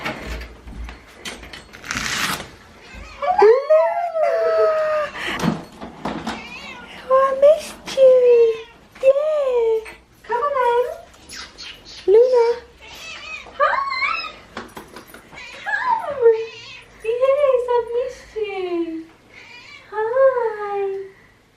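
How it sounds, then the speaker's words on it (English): A cat meowing repeatedly, many loud, close, drawn-out mews with rising and falling pitch coming every second or two, interspersed with a few soft human voices and handling noises. "So this is our cat Luna, who's very meowy"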